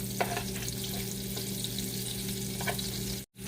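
Garlic fries in a pan for chicken bopis, giving a steady close crackling sizzle with occasional stirring scrapes, then a brief cut to silence near the end.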